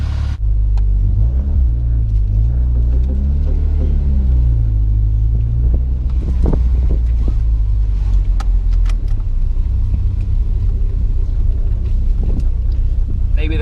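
Nissan Sentra B13 on freshly installed front coilovers, cruising on a short drive: a steady low engine and road rumble throughout, with wind noise and occasional thumps over bumps.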